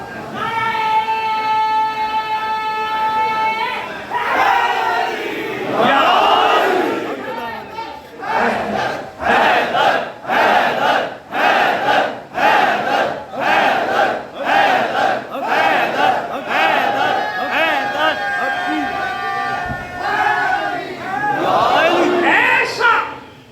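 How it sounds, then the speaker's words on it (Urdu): A large crowd at a Safar majlis religious gathering in Lahore chants slogans in loud rhythmic call-and-response bursts, the massed voices pulsing in regular beats, framed by a man's amplified speech before and after. "بیٹا ایسے پھس پھسے نعرے نہ لگاؤ"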